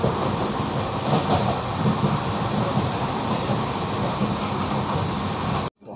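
The 22934 Bandra superfast express passenger train running from Jaipur toward Bandra, heard from inside as a loud, steady rumble of wheels and carriage roar that continues unbroken until a sudden drop just before the end.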